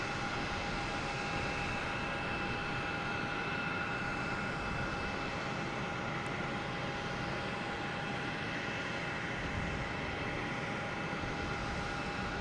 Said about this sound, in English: Next taking off is American Airlines heading to JFK in E175.